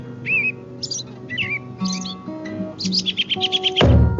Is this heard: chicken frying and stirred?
no